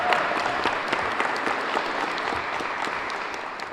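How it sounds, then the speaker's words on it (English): Audience applause for city recreation staff at an outdoor announcement of a Providence summer program, a steady moderate patter of clapping from a modest crowd with scattered distinct claps standing out. "So give a round of applause to our staff in recreation."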